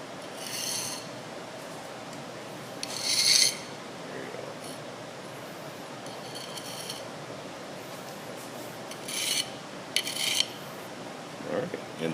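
A metal jointer rasps in short, scattered strokes as it smooths lead joints on a double lead fishing weight, soft scraping bursts separated by quiet pauses.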